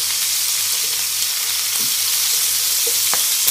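Chicken pieces fry over very high heat in a paella pan with a constant, dense sizzle and spatter, close and steady, broken by a few faint clinks as the pieces are moved.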